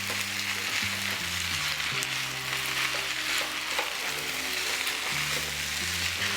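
Pork frying in a pan for fried rice, a steady broad sizzle with stirring scrapes, fairly close and continuous throughout, with music-like tonal bands running underneath.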